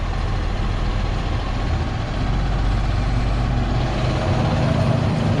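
A light-duty tow truck runs steadily in place during an exhaust regeneration burn, giving a constant broadband engine rumble and hiss that stays at one level throughout, with no one speaking.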